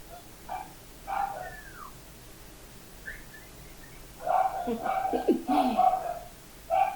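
A dog indoors barks excitedly in sharp yips and whimpering bursts that grow louder and more insistent, while people talk nearby.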